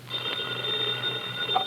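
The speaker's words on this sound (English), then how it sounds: "Here's a couple of characters whom we usually find are still with us when the phone rings." Old-time radio telephone bell ringing in a steady continuous trill, moderately loud and alone, with no voices over it.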